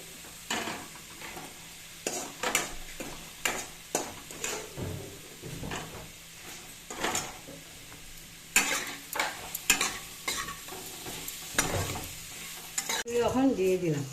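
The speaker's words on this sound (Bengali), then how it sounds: "দেখো, এভাবে তরকারিটা সাঁতলিয়ে নেব।" Potatoes sauté for a curry in a pan, a spatula scraping and stirring in regular strokes over a soft steady sizzle, close by, with a brief louder clatter at the end.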